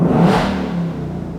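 A Ford Mustang Dark Horse engine revs with its exhaust valves open, rising to one loud, close burst before easing into a steady rumble that fades slightly.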